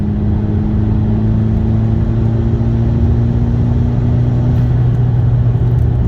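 Engine of a VW GTI MkV driven at night, a steady loud droning rumble with a constant hum as the car pulls under light throttle, close and continuous throughout with no voices.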